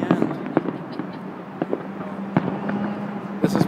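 Fireworks finale over Navy Pier, with a rapid string of sharp bangs and crackling bursts over a steady rumbling crowd backdrop, while voices chatter throughout.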